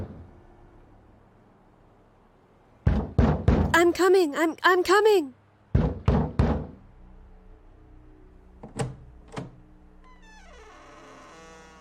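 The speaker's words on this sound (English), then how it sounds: "the sunrise brought a knock on the door" A staged knock on a wooden door in an audio drama comes as a few firm raps in a row, followed by a second set of knocks, then a voice answers and footsteps follow.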